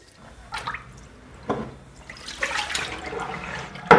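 Rice is washed by hand in water with rotating movements, giving close splashes and swishing with dripping, in a few irregular bursts that end in a sharper slosh.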